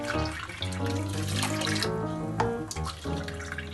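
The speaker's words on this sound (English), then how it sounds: "you add 3 cups of water to it" Water poured from a vessel into a pressure cooker holding dal for chicken dhansak, a steady close splashing stream that runs unbroken for several seconds with a tonal ring underneath.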